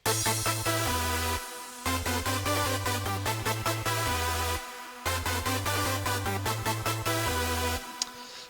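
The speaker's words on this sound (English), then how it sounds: "And then the bass line plays the same notes as the chords." A hardstyle bass line in FL Studio plays the same notes as the chords, pulsing in steady stepped patterns with sliding pitch, repeating in two loud phrases separated by brief dropouts.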